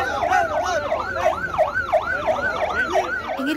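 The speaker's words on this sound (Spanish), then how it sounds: "van con sirena abierta tienen prioridad en las rutas" An ambulance siren wails in fast, regular rising-and-falling cycles, loud and close, at a road blockade on Guatemala's Ruta al Atlántico during protest roadblocks, with faint traffic noise beneath.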